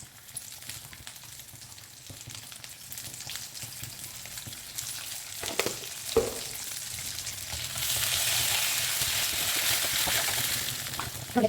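Onion and pounded chili powder fry in oil in a home kitchen, a steady close sizzle with occasional stirring clacks that swells louder partway through, with no talk.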